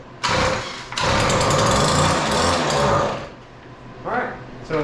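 A Weedeater 2-cycle edger engine with a fault fires at full throttle, roaring loudly for a couple of seconds in two close bursts, then cutting out before a shorter sputter near the end.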